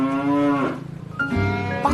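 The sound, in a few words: cow mooing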